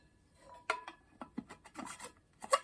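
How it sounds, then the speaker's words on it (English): A plastic lid is screwed onto a cup with a straw inside, giving a quiet series of short rasping, rubbing twists spaced irregularly, close up and otherwise silent. "the lid screws on."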